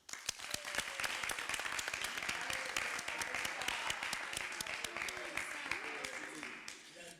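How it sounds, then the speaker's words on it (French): Studio audience on a French television show applauding, a dense continuous clatter of many hands with sharp individual claps standing out, fairly even before tapering slightly at the end. "on peut applaudir pour vous"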